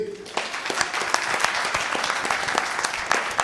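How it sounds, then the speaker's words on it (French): Dense, steady audience applause for a private-school quiz team at a quarter-final of a school quiz competition in Dakar, loud and continuous throughout with no speech over it. "il faut les applaudir"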